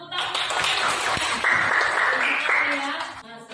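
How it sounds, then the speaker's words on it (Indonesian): A classroom of children claps together in a brief burst of hand clapping, mixed with young voices calling out over the claps before it dies away. "Oke, tepuk tangan."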